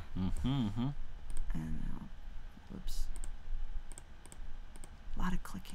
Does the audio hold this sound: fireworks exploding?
no